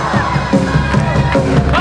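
A concert audience at the IslaGo festival in Isla Cristina screams loudly together on cue, a dense, close roar of many voices that swells in pulses.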